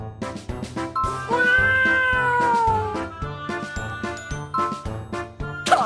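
A voice imitates a cat's meow in a drawn-out, gliding cry over a bouncy jingling music track with a steady beat.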